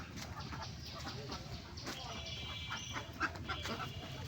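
Chickens and ducks at a rural home cluck softly and faintly in a quiet yard, with a few brief, sharper calls near the end.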